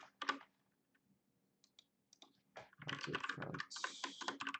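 Typing on a computer keyboard while writing object-oriented code, a few sparse key clicks at first, then a denser run of rapid clicking, close and fairly quiet, with brief speech mixed in.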